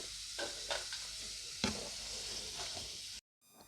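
Food deep-frying in hot oil sizzles steadily while a ladle stirs and scoops pieces out, with several scraping clinks over the hiss before the sound cuts off abruptly near the end.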